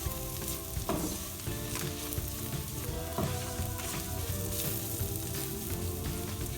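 Turmeric and ground spices sizzle steadily in a hot oiled pan for BIR-style saag bhaji, a continuous dense frying hiss with occasional stirring scrapes, close and loud, no talk.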